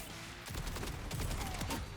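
Rapid automatic gunfire from the game Borderlands 4, a fast-rate weapon firing in dense bursts with overlapping reports, loud and close, running nearly continuously through the second half.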